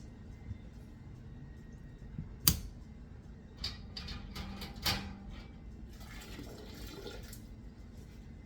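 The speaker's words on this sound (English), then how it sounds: "I'm just emptying the water out so I can get to these jars and fill them up" Water is emptied out of a water bath canner holding jars, with faint pouring and splashing, scattered drips and a few sharp clinks against a quiet background.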